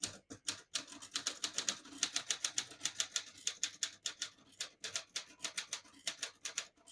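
A 1945 Corona Standard portable typewriter typing in red ink from the lower ribbon half, with rapid, close keystrikes in an uneven but steady rhythm.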